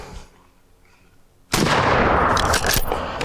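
A single sharp suppressed gunshot from a rifle fitted with a Dead Air Sandman suppressor cracks loudly after a quiet lead-in, followed by a lingering outdoor echo.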